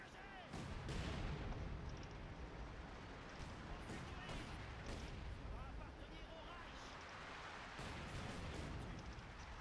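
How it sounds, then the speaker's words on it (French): Light artillery fire in the WWII strategy game Company of Heroes 2, a dense continuous barrage of booms and blasts rumbling throughout, with game voices speaking over it. "Ennemi attaqué par l'artillerie légère."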